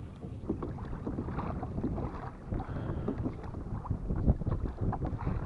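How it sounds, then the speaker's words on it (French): Wind picks up at sea from a small boat, a dense, low rumbling buffet of gusts against the microphone mixed with water slapping, steady and close, with no talk. "le vent commence à monter"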